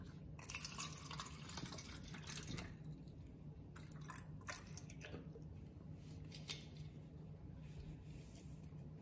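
Water splashes and drips into a container as bottled Italian mineral water is poured for pH and TDS testing, with steady trickling and a few louder splashes over a constant low background hum.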